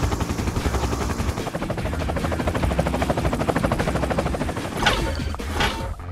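Red Alert 2 Floating Disc hovering in flight in a video game, a steady loud pulsing whir with rapid rhythmic beating like rotor blades, continuous throughout, with a couple of brief whooshing sweeps near the end.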